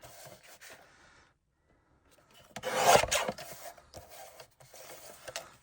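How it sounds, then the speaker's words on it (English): A paper trimmer slices a cardstock sentiment for a holiday card, giving one brief close rasping cut between quiet handling sounds. "For my sentiment, I am going to use my trimmer."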